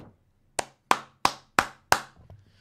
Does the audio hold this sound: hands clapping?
yes